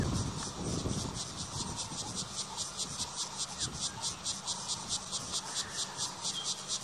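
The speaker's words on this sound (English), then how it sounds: "listen to all the insects going now as it starts to heat up. A whole lot of cicadas" A dense chorus of cicadas drones in steady, rapid pulses, a shrill buzzing wall of insect sound that continues throughout with faint rustling underneath.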